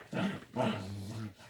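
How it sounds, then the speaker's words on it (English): A pet dog gives two short growling, whining bursts close by in a quiet room, the second drawing out into a low, wavering moan. "I'm really sorry if you can hear my dog."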